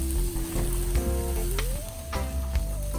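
Lobster, shrimp and steak sizzling on a grill while being basted with butter, producing a loud, steady sizzle under a sustained rising tone and a few soft clinks.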